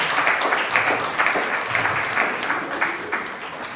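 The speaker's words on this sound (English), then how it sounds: "Can we appreciate him with a very, very big round of applause?" Audience applause at a youth mentoring masterclass, a dense steady wash of many hands clapping for about four seconds, moderately loud and fairly close, with faint voices underneath.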